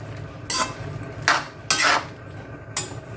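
Cabbage going into a pan of sautéed pancit bato, a Bicol noodle dish, with several separate clattering bursts of utensils against the pan spaced about a second apart, close and fairly loud over a low kitchen background.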